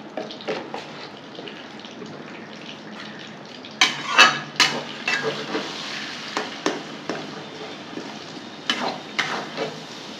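Spice paste with salt and turmeric is sautéed in a pan with a soft, steady sizzle. Clusters of sharper scraping strokes come from a spatula working the paste against the metal.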